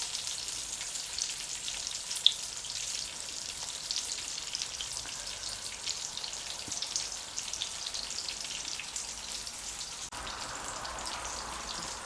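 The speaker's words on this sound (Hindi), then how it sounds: "तीस सेकंड के लिए हम इस साइड को पकाएंगे, थोड़ी दरमियानी आंच पे।" Mutton keema kebabs frying in a pan over a medium flame, a soft, even sizzle and spatter that runs steadily the whole time, fairly quiet and close, with no voices.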